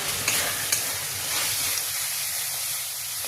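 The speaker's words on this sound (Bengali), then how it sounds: "মশলাটা ভালোভাবে টমেটোর সাথে মিশিয়ে নেব।" Sunrise tarka masala stirred into tomatoes in a pan for Bengali dal tarka, a steady close sizzle with scraping spoon strokes, a couple of sharp clicks early on, no voices.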